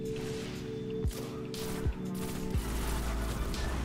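The Golden Gun is fired in Destiny: Rise of Iron, giving a few heavy blasts about a second apart over a constant hum of game sound and distant gunfire.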